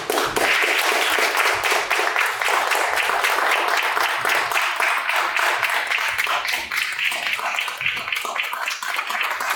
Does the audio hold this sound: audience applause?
yes